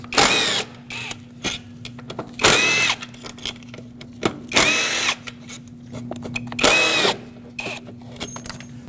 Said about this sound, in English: Let's remove the throttle body off of the intake manifold. It's got 4 10mm headed bolts.